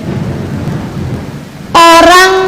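Rain falls steadily with a low thunder rumble, then a loud, sharp burst of tonal, crackling noise hits near the end, with no voices.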